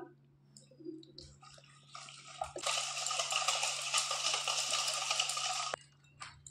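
Cold water poured into a bowl of sour yogurt and sugar for making lassi, a steady splashing pour lasting about three seconds, close and fairly quiet, with small clinks before and after.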